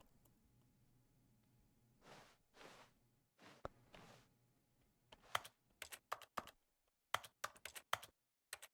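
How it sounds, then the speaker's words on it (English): Key presses in The Stanley Parable video game: a scattering of quiet, sharp clicks that start sparse and grow into a quicker irregular run of taps near the end, preceded by a few soft muffled thuds. "Why do I make key press sounds?"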